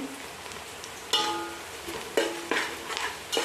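Green chilies crisping in hot oil with a pinch of asafoetida give a steady low sizzle, broken by a few louder stirring scrapes and spatters close by.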